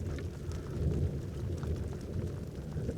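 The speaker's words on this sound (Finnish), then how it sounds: "Tuleeko tuo ukkonen päälle?" Distant thunder rumbles low and continuously beside a hiking lean-to shelter in the Finnish fells, a steady far-off roll with no sharp cracks and no talking.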